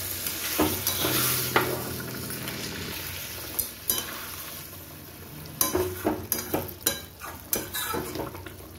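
Frying fish sizzles in a pan as about half a cup of water goes in, a loud hiss that fades into steady bubbling, followed by a string of sharp clinks as a spatula stirs against the pan.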